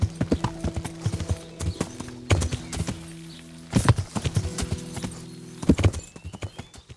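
Horse hooves clip-clop in quick uneven bursts in the video game Kingdom Come: Deliverance, with a few snorts and whinnies, separated by short pauses, in woods.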